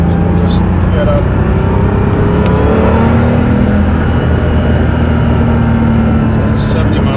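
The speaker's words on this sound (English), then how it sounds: "So it's 70 miles an hour in second gear and wants to go. I love these old turbos where you just feel that snap when the turbo hits." A 1986 Porsche 930 Turbo accelerates hard in second gear. The engine roars loudly and continuously from inside the car, rising in pitch as it pulls.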